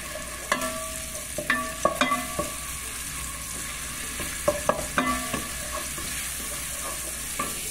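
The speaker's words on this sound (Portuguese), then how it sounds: "Aqui eu vou refogar o frango." Chicken sautés in hot oil with garlic in a pan, with a soft steady sizzle under repeated sharp clicks and scrapes of a utensil stirring against the pan.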